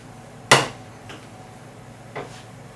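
A pot of cream set down on a stovetop gives one sharp metallic clank, followed by two lighter knocks a moment later, close by with no talking.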